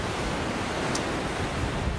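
Large waves on Lake Superior roar as a constant, dense wash of surf and wind noise, steady and loud throughout with no voices.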